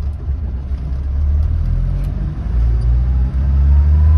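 A classic BMW 1802 pulls hard under acceleration over a speed bump, heard from inside the cabin as a deep, loud, continuous rumble and whir. The engine builds steadily with no voices over it.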